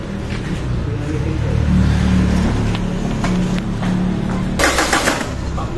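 A Mitsubishi Pajero Gen 2 with a 4M40 diesel engine cranks on a newly replaced starter, a whirring, chugging turnover for a few seconds, then a sharp burst of noise near the end, close by with no talk.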